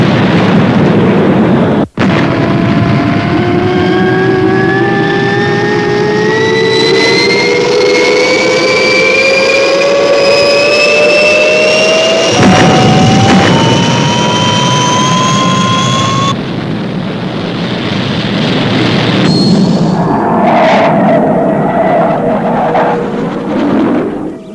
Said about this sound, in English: Clear for liftoff, Colonel Zodiac.